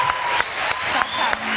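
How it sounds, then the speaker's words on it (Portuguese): A TV talk show studio audience applauds a departing guest, a full burst of clapping with a few sharper accents, while faint voices and tones sit beneath it. "Aplausos para ela,"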